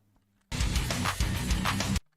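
Steady percussive rhythm track with repeated clap sounds marking each placed note in a rhythm-game chart editor, a loud continuous burst of about one and a half seconds with no talking.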